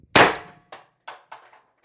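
A TR50 CO2 air rifle fires a single sharp crack, followed by several fainter metallic clanks a fraction of a second apart, close and clean with no talk.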